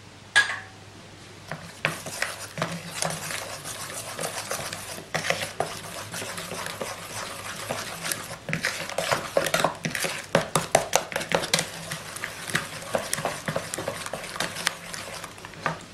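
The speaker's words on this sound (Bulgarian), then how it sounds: "Отново разбърквам." Sweet bread dough for kozunak, made with honey, lemon and orange, being stirred with oil in a bowl, giving continuous wet scraping and clinking of a utensil against the bowl, close and steady throughout.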